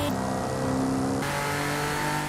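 A car engine revving in a racing video game with upgraded performance parts, a sustained steady loud drone with a shift in tone partway through, alone without talk.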